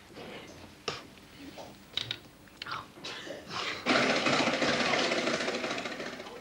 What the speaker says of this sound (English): The whisk beats air into the liquid egg white.